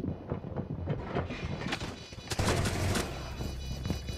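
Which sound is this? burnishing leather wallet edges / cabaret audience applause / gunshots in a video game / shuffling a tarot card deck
gunshots in a video game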